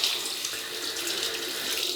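A water tap runs steadily into a sink for rinsing after a shave, producing a close, constant splashing hiss with no voices.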